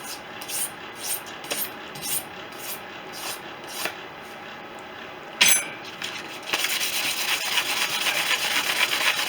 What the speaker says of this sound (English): I'll just get the scraper on that.